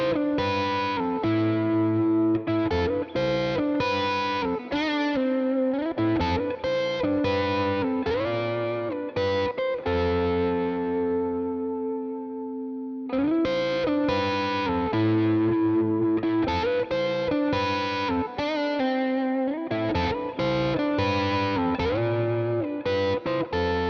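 An electric guitar with effects plays a melody harmonized in sixths, two voices moving together, with a held sustained note partway through before the line resumes.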